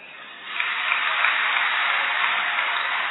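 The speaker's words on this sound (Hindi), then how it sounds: "ताली बजा दो।" A large live audience at a spiritual talk breaks into dense, steady applause that swells after a quiet start and holds level throughout.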